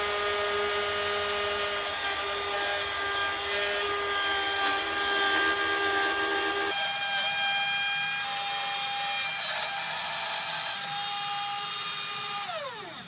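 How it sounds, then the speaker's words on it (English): A router plunge-cutting a lock mortise into a wooden door with a Mophorn lock mortising jig, giving a steady loud high-pitched whine that shifts pitch partway through, then winds down at the end. "You're going to plunge the router in there, so make sure it's stabilized because you don't want this thing running all over the place."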